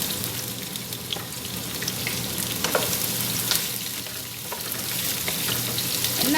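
Sliced onions frying in oil in a pan, a steady loud sizzle and crackle throughout with occasional stirring scrapes, close up.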